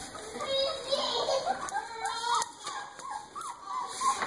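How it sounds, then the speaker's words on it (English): A dark-coated puppy whimpers in short, high, wavering cries, fairly close, amid soft background activity and faint voices. "Look at that handsome puppy."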